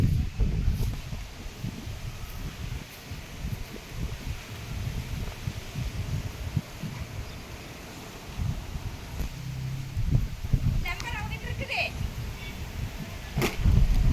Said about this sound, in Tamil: காற்று பயங்கரமான காற்று